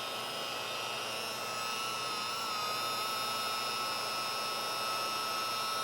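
A scrubbing machine at its second speed setting works over dirty cloth car seats during dry foam cleaning, giving a constant, loud, high-pitched mechanical whine with no pauses.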